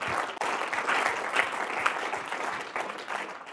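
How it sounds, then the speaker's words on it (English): An audience applauds at the close of a talk on supplements, a dense, even patter of many hands that holds steady and loud throughout, with a few sharper claps standing out. "give yourselves guys a round of applause for hanging out and having fun"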